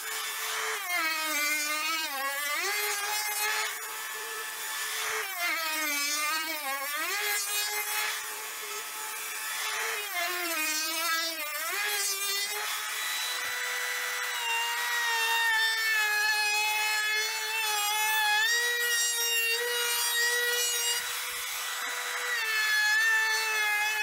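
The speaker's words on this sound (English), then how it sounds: "I've switched my trim router over to a rabbiting bit to kind of step it down" A trim router fitted with a rabbeting bit cuts a stepped driver recess into a wooden speaker cabinet, making a loud, continuous high whine whose pitch dips and rises as the bit loads, with no talking.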